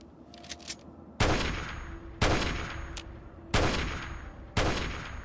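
Gunfire in the Fallout video game, four loud, sharp blasts spaced about a second apart, each with a long decaying tail, preceded by a few faint distant shots.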